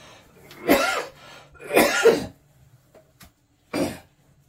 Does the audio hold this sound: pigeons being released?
no